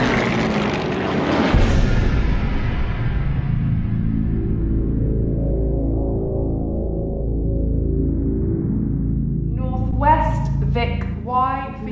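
A formation of WWII bombers over France in the Battle of Britain, piston propeller engines droning loudly and steadily, a fading pass followed by a continuous low hum, with a narrator speaking over the engines near the end.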